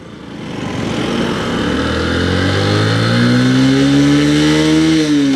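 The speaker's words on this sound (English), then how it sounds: "So let's start the bike, put it to first gear, and let's see how this goes." A Bajaj Platina Comfortec motorcycle starts and pulls away in first gear, its single engine note climbing steadily in pitch and loudness over several seconds, close and alone.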